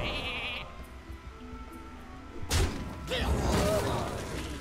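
A cartoon sheep bleats from the Polymorph spell in the card game Hearthstone, a short sound effect followed by game impact and crash noises, loud and close.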